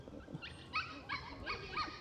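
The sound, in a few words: dog barking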